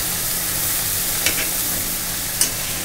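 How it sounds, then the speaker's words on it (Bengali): Fish pieces, the head first, lifted from a pan of frying Bengali fish curry, with a steady hiss of sizzling oil and two brief scraping clinks of a spatula against the pan. "তো কষানো হয়ে গেছে, এখন মাছ উঠিয়ে ফেলি।"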